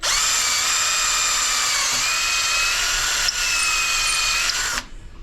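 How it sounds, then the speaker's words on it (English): Battery-powered electric drill boring holes into a wooden ship wheel during repair, a steady loud whine running continuously for about five seconds before cutting off abruptly near the end. "Remember to hold your drill nice and straight."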